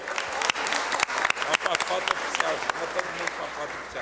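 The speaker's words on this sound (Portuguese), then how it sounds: "Uma salva de palmas a todos vocês." Sustained applause from an audience fills a solemn session of the state legislative assembly, a dense steady clapping with occasional sharper claps throughout.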